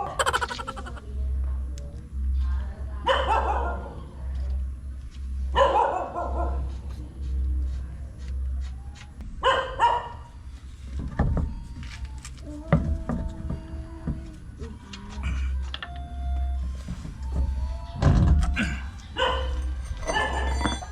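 Dogs bark in scattered bursts, some near and sharp, over a steady low hum and occasional clanks during a car tire change.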